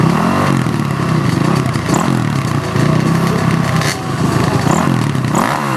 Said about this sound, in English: Up next in the 450 class, it'll be Brett Hooper from Ellsworth riding a Honda.